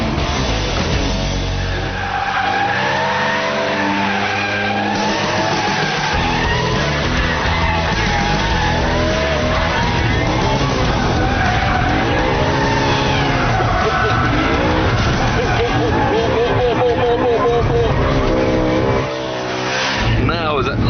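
A BMW M3 set to its most extreme handling mode is driven hard through corners, its engine loud and close, revving and shifting with tire noise throughout, while a voice talks over it.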